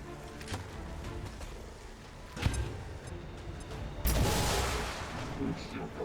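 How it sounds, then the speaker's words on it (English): A grenade blows up in the video game XCOM 2, a sudden booming blast a few seconds in that decays into rumble, after an earlier sharp crack and over quiet in-game background sound. "Let's start with a grenade."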